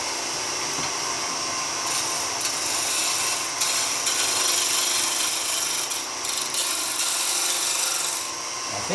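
Wood piece being turned on a lathe, with a steady hissing, scraping cut from the tool against the spinning workpiece, close and continuous with small dips in intensity.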